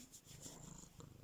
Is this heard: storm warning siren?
no